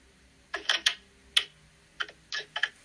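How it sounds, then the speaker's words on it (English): A deck of playing cards is shuffled nearby in short crisp bursts of riffling clicks, several separate clusters spread over a few seconds, fairly faint against a quiet background. "I'm over here shuffling my deck of cards"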